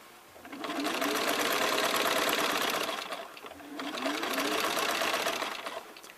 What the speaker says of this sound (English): Using my fingers to help them ease smoothly into the machine.